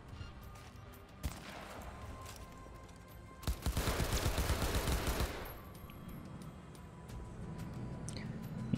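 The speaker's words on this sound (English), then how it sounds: "I'm just gonna have to go full guns now" Automatic gunfire in Cyberpunk 2077 during a boss fight, a couple of isolated shots followed by a sustained rapid burst lasting about two seconds, then quieter game ambience.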